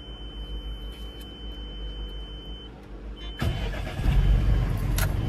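A truck engine started by its driver, a faint idle hum and high tone giving way to a louder rumbling crank and catch that settles into a running engine, with no talk over it.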